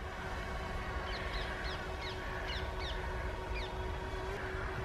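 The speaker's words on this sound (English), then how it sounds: "I can hear loads of birds in the background." Several birds call outdoors, a series of short chirping notes in quick bursts over a constant loud hum and wind-like background noise, with no voices.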